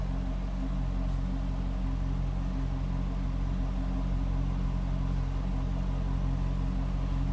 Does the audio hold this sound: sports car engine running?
yes